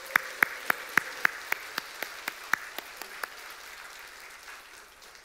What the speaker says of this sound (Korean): 환호와 함께 격려의 박수를 해주시겠습니다